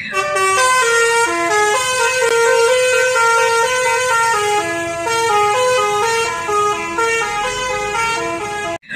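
A toy bus horn honks out a loud, continuous melodic tune, a steady electronic jingle of stepped tones running nearly the full length before cutting off abruptly at the end.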